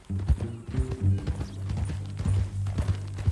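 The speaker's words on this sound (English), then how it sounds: "That new horse?" Horse hooves clip-clopping in Red Dead Redemption 2, a steady close walking rhythm of hoof strikes with low thuds and faint tack jingles, no talk.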